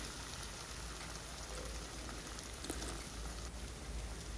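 Three eggs being scrambled in a pan with other ingredients pushed aside, giving a steady soft sizzling hiss like light rain throughout, fairly faint with no talk.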